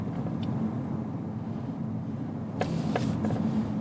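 An Audi S4 Avant carries its occupants along a road, its steady low engine and road rumble droning evenly throughout, with a few brief clicks and rattles from the cabin near the end.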